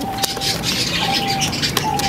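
Large pigeons of a Sialkoti bloodline coo softly in a loft, a steady low murmuring bed with faint wing or foot patter, no speech.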